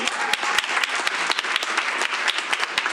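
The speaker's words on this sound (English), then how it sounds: "A round of applause for Lee." Audience clapping at a school board meeting, a steady patter of many hands at moderate volume, with a few sharp individual claps standing out and no talking over it.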